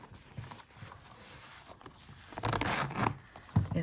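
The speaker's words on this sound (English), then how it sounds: "it has a zipper pocket that's really nice and thick right here" Zipper on the thick pocket of a leather pencil case, drawn in a few quick, close rasping pulls, louder toward the end.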